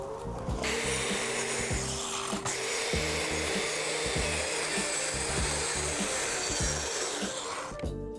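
A saw cuts partway through a timber board while fitting racking in a van, a steady rasping cut with rhythmic strokes, close and continuous, with no talking.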